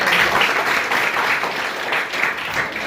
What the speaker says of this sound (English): Have a little clap.